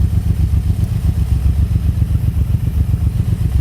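A Suzuki Boulevard M109R motorcycle idles at about 900 to 1000 rpm, with a loud, close, steady low pulsing thump and light mechanical clatter that continues evenly throughout.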